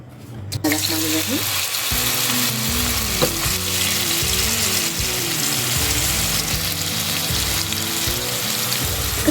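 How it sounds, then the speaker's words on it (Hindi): Chicken pieces frying in oil with ginger, garlic, red chilli and white pepper: loud, close sizzling that starts abruptly and continues steadily, with stirring clatters and scraping throughout and no talk. "चलिए आइए चिकन को फ्राई भी करते हैं।"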